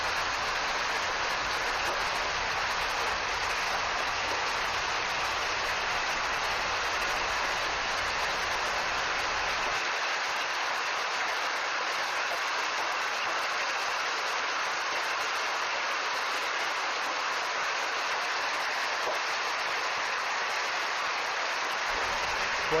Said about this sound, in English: Quite a downpour and hailstorm there.